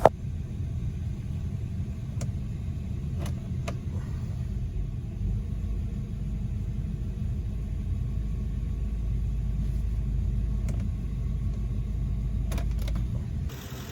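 A 2005 Mercury Grand Marquis idles steadily while its automatic transmission is shifted back and forth from park down to first, giving a continuous low rumble with faint clicks and no voices.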